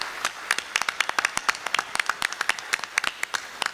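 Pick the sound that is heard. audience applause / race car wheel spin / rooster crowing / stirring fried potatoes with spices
audience applause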